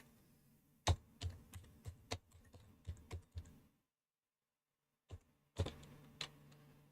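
Keys clack on a computer keyboard in short irregular bursts, a brief typing run followed by a pause of silence and a few more crisp taps, close and fairly quiet.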